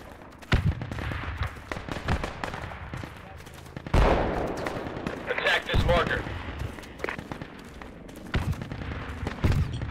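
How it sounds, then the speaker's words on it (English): Machine gun fire in the military shooter Project Reality, sharp bursts and scattered shots cracking over the hills, some close and loud, others distant, with radio-style talk throughout. "we're taking machine gun fire from the marker"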